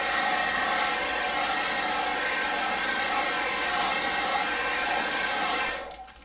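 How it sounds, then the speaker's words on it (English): A hairdryer blows steadily and loudly, heating and softening the glue on a diamond painting canvas, then cuts off abruptly just before the end. "with the hairdryer, you, with the heat, you are melting the glue"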